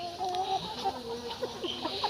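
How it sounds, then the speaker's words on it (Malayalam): A brood of about thirty young chicken chicks peeping in a shed, with rising and falling high cheeps overlapping close by and no talking. "ഇപ്പം ടോട്ടൽ ഇവിടെ മുപ്പത് കോഴിക്കുഞ്ഞുങ്ങളാണ് ഉള്ളത്"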